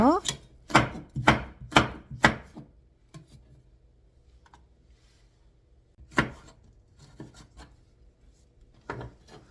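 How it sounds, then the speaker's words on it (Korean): A knife chops bell pepper into thin strips on a board, a rapid run of five crisp close taps, a pause, then a few more scattered cuts. "파프리카도 같은 방법으로 채를 썰어주세요"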